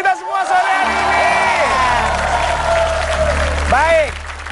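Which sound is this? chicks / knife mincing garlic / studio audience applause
studio audience applause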